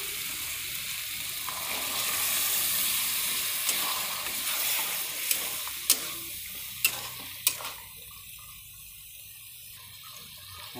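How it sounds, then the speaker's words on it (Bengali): Peas tipped into a frying masala for village-style ghugni sizzle with a bright, hissing fry, while a spoon scrapes and knocks against the pan in sharp, distinct clicks, close and clear. "এবার মটরটা দিয়ে দেবো।"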